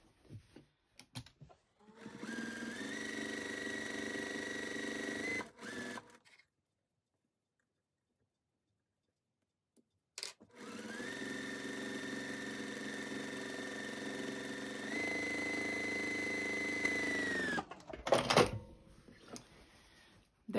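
A sewing machine stitches a monogram letter on a pillowcase in two long runs of fast, steady whirring with a pause between, ending in brief clicks and handling noise.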